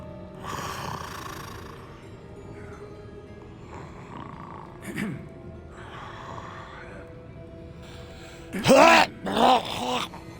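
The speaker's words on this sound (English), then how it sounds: "It looks like it's a goblin snoring." A goblin snoring in Hogwarts Legacy gives slow, rasping groan-like breaths at irregular intervals, with a couple of louder snorting bursts near the end, fairly close in a quiet game space.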